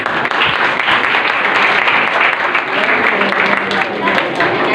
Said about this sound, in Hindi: इनके लिए भी तालियां हो गई।